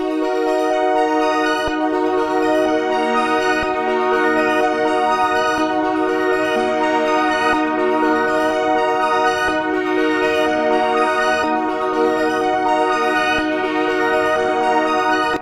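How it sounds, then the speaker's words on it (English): Layered synth melodies for a future-style trap beat, pitched up and soaked in reverb, play as a dense, shimmering loop of sustained bright tones with no drums, steady and loud throughout. "Altogether, my melodies sound like this."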